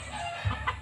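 A one-year-old white Kelso hen in a backyard gives a couple of short, close clucks over a soft background hum.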